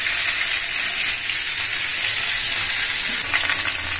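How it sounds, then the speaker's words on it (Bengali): Fish pieces frying in a pan with ridge gourd and potato, seasoned with nigella seed tempering, giving a steady, loud, close sizzle and crackle throughout with faint stirring near the end. "এই 4 পিস মাছ রান্না করছি ঝিঙে আলু দিয়ে"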